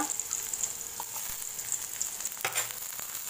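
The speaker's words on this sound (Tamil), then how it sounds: "வெங்காயம் நல்லா வதக்கிக்கோங்க நல்லா வதங்கணும்" Onions sautéing in a pan for a broad beans poriyal, a steady soft sizzle and crackle with an occasional stir, heard alone at fairly low level.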